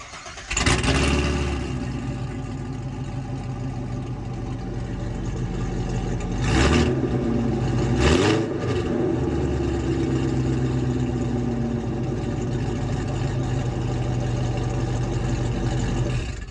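A 2015 Corvette Stingray V8 cranks and fires with a loud burst, then settles into a steady, close idle, with two brief blips of revving partway through.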